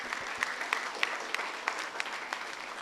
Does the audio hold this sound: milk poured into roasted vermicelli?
no